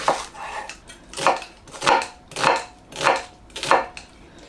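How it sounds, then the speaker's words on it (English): A knife chops onions straight into an earthenware pot, with six steady, evenly spaced knocks ringing close and clear with no talk. "I want to quickly cut some onions into my earthenware pot"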